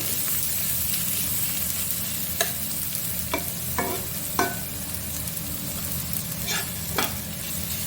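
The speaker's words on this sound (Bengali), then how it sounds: "রসুনটা ভাজতে ভাজতে পেঁয়াজটাও আর একটু ভাজা হয়ে যাবে।" Garlic paste and onion fry in hot oil with a steady close sizzle, broken by several sharp scraping strokes of a spoon against the pan as the mixture is stirred.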